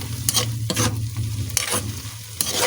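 Fiddlehead fern (pako) stir-fried in a pan gives a steady sizzle, broken by four sharp scraping stirs of the utensil against the pan, close and fairly loud.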